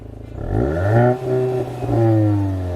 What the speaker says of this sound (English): The Golf GTI has a sports exhaust. Rev it up.